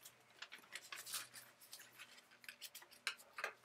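Scissors cut out paper parrot tail feathers for a collage, a run of quiet, close snips and crisp paper rustles at an uneven pace, with no talking.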